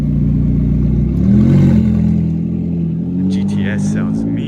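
A Porsche GTS engine revs loudly nearby, its pitch rising and falling through a short throttle blip over a steady growl, with people talking over it outdoors at a car gathering.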